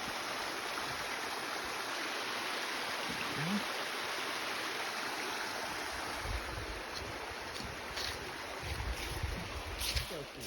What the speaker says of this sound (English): look at a nice little small waterfall going on over there.